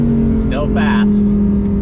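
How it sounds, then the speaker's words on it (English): A Lamborghini V10 engine revs while driving, its steady droning note running throughout beneath loud voices talking inside the car. "that V10 still sounds absolutely insane"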